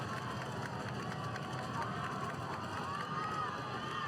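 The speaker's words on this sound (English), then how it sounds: "The crowd here starting to make some noise tonight." A crowd at a Friday night high school football game between Heritage and Cleveland keeps up a loud, steady roar of cheering in the stadium while voices talk over it.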